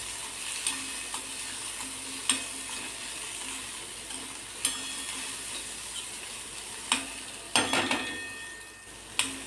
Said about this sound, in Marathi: बारीक चिरलेला कांदा सुद्धा टाकून घ्यायचा आहे। कांदा सुद्धा परतायचा, थोडासा मऊ होईपर्यंत आपल्याला परतून घ्यायचा आहे कांदा